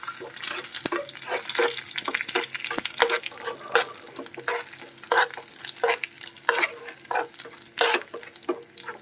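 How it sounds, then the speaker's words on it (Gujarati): Homemade spice masala with turmeric frying in oil on a low flame for panipuri-flavored puffed rice, with a steady sizzle broken by frequent rhythmic stirring scrapes close by and no talking. "આપણે આ મસાલો બનાવેલો હતો એ પણ આમાં તેલમાં જ એડ કરી દઈશું આપણે"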